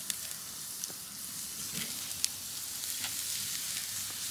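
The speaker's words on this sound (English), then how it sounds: "Listen to the sizzle." Steaks sizzling on a charcoal grill, a steady bright hiss of fat frying with scattered sharp pops and crackles, close and continuous with no talking.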